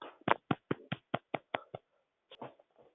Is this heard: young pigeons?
no